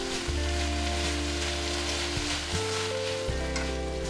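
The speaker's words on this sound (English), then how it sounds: "Let it fry for 2 minutes." Soaked rice noodles and vegetables fry in a wok, giving a loud, unbroken hissing sizzle like heavy rain, with a steady low hum running beneath it.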